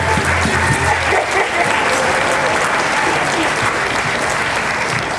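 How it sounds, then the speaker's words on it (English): A crowd at a university pow wow gives loud, sustained applause after a Métis jigging performance, a dense roar of clapping that holds steady, with a brief low tone fading under it early on. "let's give it a big round of applause, everybody"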